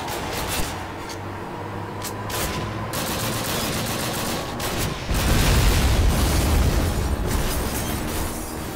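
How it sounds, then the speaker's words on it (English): A grenade blast in Call of Duty: United Offensive, Operation Market Garden, followed by scattered rifle and machine-gun fire, with a loud booming rumble swelling about halfway through. "Look! Grenade!"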